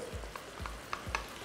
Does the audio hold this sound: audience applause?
no